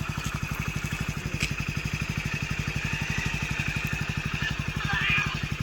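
A motorcycle engine idles close by with a rapid, even chugging pulse that holds steady throughout, swelling slightly near the end.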